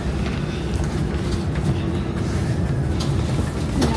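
An ÖBB Railjet express between Innsbruck and Linz heard from inside the carriage, a steady loud low rumble and rolling hum with faint rhythmic clicks over the track.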